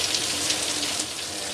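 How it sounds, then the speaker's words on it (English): Steady rain starting to fall outdoors at about 7 a.m. during Hurricane Irma, a continuous soft broadband hiss of drops on surfaces, fairly even and unbroken throughout with no voices. "and just now starting to rain,"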